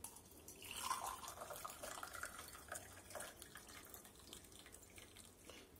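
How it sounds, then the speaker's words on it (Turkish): Boiled cabbage liquid being strained as natural food colouring, heard as a faint, steady trickle of pouring water and drips with no voices. "Şimdi lahanamı da süzüyorum."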